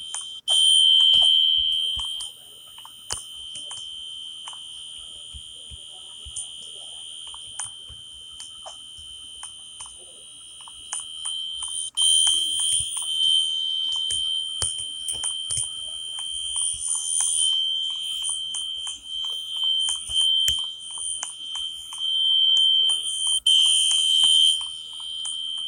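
A Fire-Lite MS-10UD fire alarm system test in the Roblox video game: a loud, steady electronic alarm tone sounds continuously and unbroken throughout, with a few brief louder surges and no talking.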